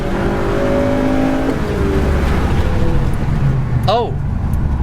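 A Mugen-equipped eighth-generation Honda Civic Si accelerates hard, its engine note steady and loud throughout, with voices talking over it.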